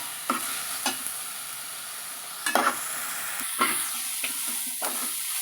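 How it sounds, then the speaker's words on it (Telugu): Tomato, onion and coriander are stirred and roasted together in a hot pan, a soft close sizzle broken by several sharp spatula scrapes and clacks spaced irregularly, no voices. "కొత్తిమీర వేగిపోయిన తర్వాత ఒక టమాటా యాడ్ చేసేసుకొని బాగా మిక్స్ చేసుకోవాలి."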